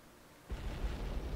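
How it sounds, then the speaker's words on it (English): A single explosion in the Happy Wheels video game bursts in abruptly after a quiet start, a low, rumbling boom that holds for about a second, faint and without speech. "Danger! Explosions!"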